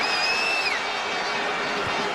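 Football stadium crowd during the Wales versus England qualifier, a broad steady roar of many voices with a brief whistle early on, sustained throughout.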